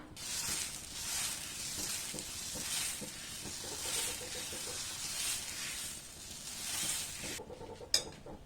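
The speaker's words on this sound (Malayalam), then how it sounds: "നമുക്കിനി ദോശമാവ് ഒഴിച്ചു കൊടുക്കാം" Payar dosa batter poured onto a hot tawa, giving a steady hissing sizzle with soft stirring texture, moderately quiet and continuous, ending with a brief clunk.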